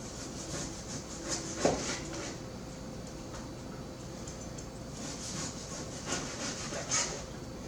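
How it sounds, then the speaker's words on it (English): Knife cutting gyro meat into thin strips about an eighth of an inch wide, giving steady soft scraping and rubbing strokes with a sharper tap near the start, close and quiet, no talking. "I'm cutting thin, maybe 1/8 inch strips here."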